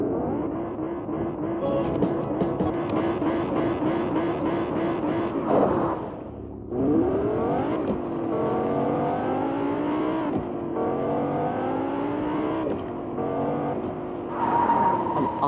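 A car driven in the Fortnite video game revs and accelerates with rising engine tones, a brief cut-off around the middle, then repeated surging gear-like sweeps, loud and close with no talking.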